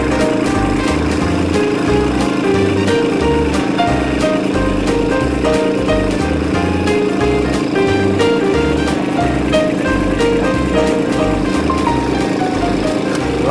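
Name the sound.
compact tractor engine running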